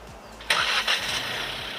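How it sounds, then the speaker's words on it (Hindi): Kia Sonet HTX engine cranks and fires up via remote start, a sudden burst of starter noise settling into a steady idle hum, heard close by with no talk. "गाड़ी ऑन हो गई।"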